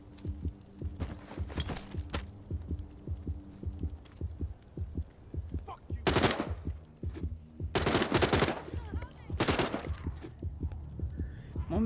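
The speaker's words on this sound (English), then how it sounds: "that might just be my heart beating" Heartbeat effect in a video game after nearly dying, a steady low thumping pulse that runs under sharp bursts of gunfire and other game noise, fairly quiet overall.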